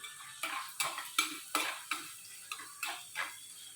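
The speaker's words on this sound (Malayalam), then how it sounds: "നന്നായി വഴറ്റുക" Onion, garlic, ginger, green chili and curry leaves sautéing in a pan for tomato curry, with a spoon scraping and tapping the pan in a regular rhythm of about ten strokes over a faint sizzle.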